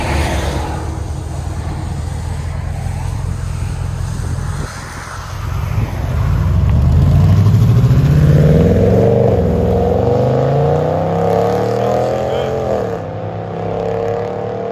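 A 2012 Ram 1500 pickup with a 5.7 liter HEMI V8 and aftermarket exhaust idles with a deep burble, then revs hard in rising and falling sweeps, loud and close, with a bit of voice underneath.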